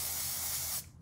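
A spray can of instant self-tanner gives one steady, close, loud hissing burst lasting under a second, then cuts off sharply.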